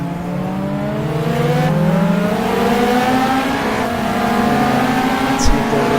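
Ferrari 458 and Ferrari 430 GT3 race cars battle closely in a sim racing game at Jarama, their engines droning loudly and steadily with rising and falling revs across the whole stretch.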